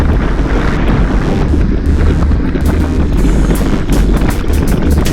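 Steady, loud wind buffeting the microphone during a group bicycle ride heading east, a continuous low roar throughout with no voices.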